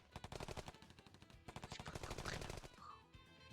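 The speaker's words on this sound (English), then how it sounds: "Bullets were fired." Rapid bursts of gunfire from PioFiore: Fated Memories rattle in quick repeating volleys, dense machine-gun-like shots firing back to back before trailing off.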